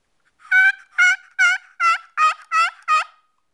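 A double-sided Lynch model 102 turkey box call played on its hen side, giving seven evenly spaced raspy yelps, close and clear with no talking.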